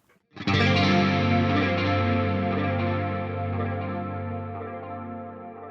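Sustained guitar chord through a Line 6 Helix metal preset with chorus and Glimpse reverb, swelling in at once and ringing out for several seconds with shimmering, wide modulation and a slow, smooth decay, heard alone.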